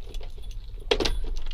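Car keys jingle and rattle in a brief metallic burst, with a louder clink near the end, close by over a low background hum.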